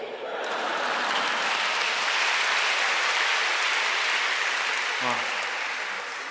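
Sustained applause from a lecture audience at a Buddhist teaching assembly in Malaysia, a thick wash of many hands clapping that holds steady, with a brief voice surfacing near the end before it tapers slightly.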